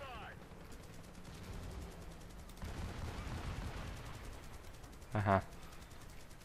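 Gunfire in the online shooter Battlefield Play4Free: one short, loud burst near the end stands out over a steady wash of in-game background noise, with a brief spoken exclamation.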